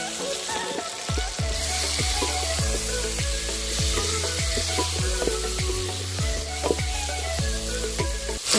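Tomatoes go into browned onions in a pan, cooking on an outdoor village fire in Kenya. A loud, dense sizzle with crackling runs throughout, along with a rhythmic series of knocks and scrapes, and no one speaks.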